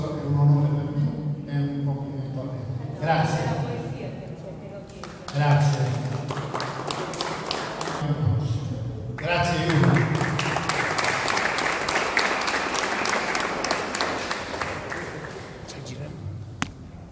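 Audience at an Italian award ceremony bursting into applause, with spoken announcements first and then clapping swelling into a steady, fairly loud ovation.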